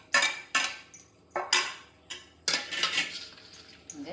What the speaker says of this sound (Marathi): म्हणजे चमच्यानेच मिक्स करते।